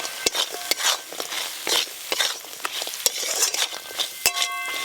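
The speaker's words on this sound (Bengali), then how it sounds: "ভেজে রাখা কাঁকড়াগুলো দিয়ে আরেকটু কষবো" Fried crabs are stirred into spice masala in a pan, a metal spatula scraping and clanking in irregular strokes over a soft continuous sizzle, close and with no talking.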